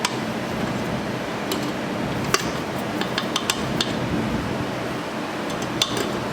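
Spatula scraping a stand mixer paddle and bowl of cookie dough, light clinks and taps of utensil on metal scattered over a steady busy kitchen background noise.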